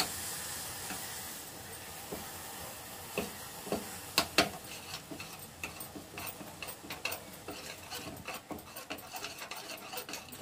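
Ragi flour is stirred into a boiling decoction, with a utensil scraping and clicking against the pot in quick irregular strokes over a soft bubbling hiss.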